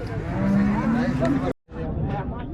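An HF (Holstein Friesian) cow at the Baramati cattle market lets out a long, close moo, followed by a brief pause and then a fainter lowing call.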